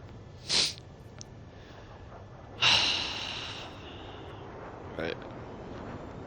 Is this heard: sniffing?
yes